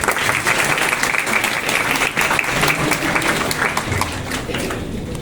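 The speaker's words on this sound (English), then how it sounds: "Please give a big round of applause" Steady applause from the audience at an inter-school debate event in a hall, dense clapping sustained throughout at an even level, with no pause.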